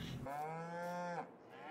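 One cow in Farming Simulator 22 gives a single long, loud moo lasting about a second, close by, followed by quieter background ambience.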